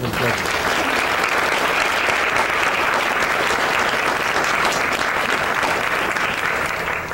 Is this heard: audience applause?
yes